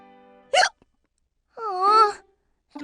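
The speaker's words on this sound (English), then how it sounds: "I don't think my hiccups are the kind that get scared away." Cartoon child Caillou hiccups, two sharp voiced hics separated by a pause, the second longer and wavering, with the start of another at the end, close and clear against silence.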